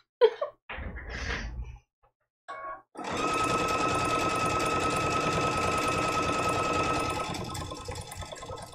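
A sewing machine stitching a quilt-as-you-go vintage-style placemat: a few short handling noises and brief whirs, then a sustained loud motor hum with rapid needle clatter for several seconds before easing off.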